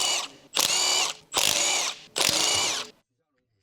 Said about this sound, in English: use a 19mm long socket with an electric wrench to remove the wheel bolts